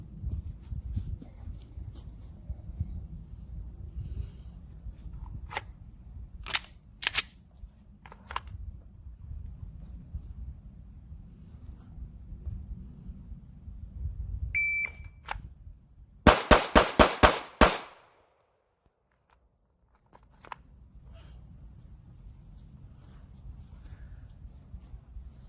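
Handgun live-fire drill outdoors: a few separate sharp gunshots, then a fast string of about six shots in quick succession, loud and close over steady background noise, followed by near silence.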